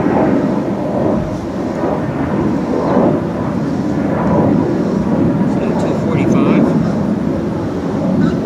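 Aircraft near Reagan National Airport over Mount Vernon rumble overhead as a steady, loud, broadband roar. It swells and fades gently across the span and stays continuous throughout.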